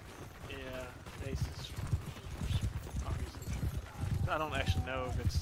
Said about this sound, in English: This bloody horse archer.